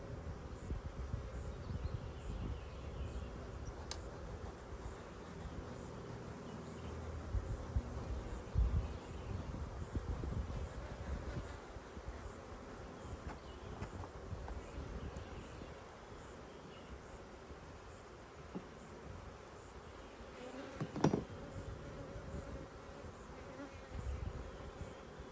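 Honey bees buzz steadily around a hive, a soft continuous hum of many insects close by, with occasional handling noises.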